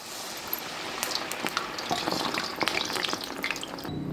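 Sakinalu, a rice-flour dough snack, fry in hot oil: a continuous bubbling sizzle with scattered crackles and pops, close and steady throughout, no talking.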